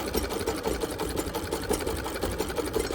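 Sewing machine stitching log cabin quilt blocks chained one after another, a close, steady, rapid mechanical whir with rhythmic needle pulses throughout.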